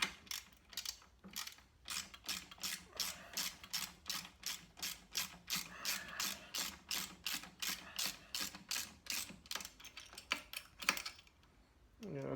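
A ratchet tightens a fastener on a Norton Commando 750 motorcycle during restoration, giving a steady run of quick, close metallic clicks in regular strokes with brief pauses.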